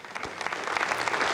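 Applause bursts out in a control room after two Galileo navigation satellites, numbers 20 and 22, separate from an Arianespace launcher, a steady dense clatter of many hands that swells slightly over its short span.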